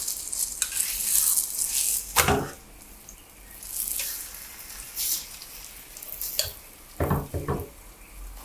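Dhaba-style aloo paratha frying golden in a pan: a soft, continuous sizzle broken by sharp clinks and scrapes of a utensil against the pan, with no voices.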